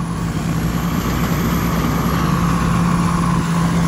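A Sak Suphan rice combine harvester with a 3-metre header, 2.5-ton grain tank and Hino engine runs steadily nearby, a loud continuous low diesel rumble with a faint high whine and no talk.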